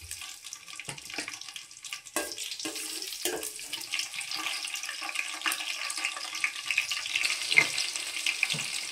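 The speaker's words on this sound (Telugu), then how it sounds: "పచ్చిమిరకాయలు వేగిపోయినాయండి" Three slit green chillies frying in hot oil in a pan for a tamarind stalk curry, giving a steady close sizzle and bubbling hiss throughout with a few soft clinks, no voice.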